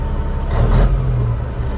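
An old dump truck's engine idles steadily up close at an auction yard, a deep low rumble with a brief rise in throttle midway before settling back.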